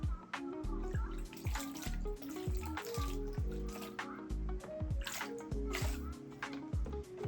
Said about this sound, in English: rinse with distilled water